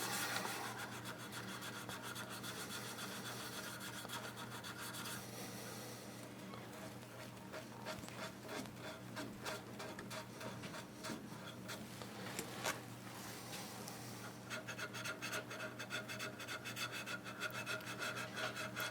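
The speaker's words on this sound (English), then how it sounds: "One hand's doing the sanding, the other hand is turning the hand wheel" Steady, continuous rubbing and rasping of sandpaper against a wooden pizza cutter handle spun on a hand-wheel lathe, with a constant low hum running underneath throughout.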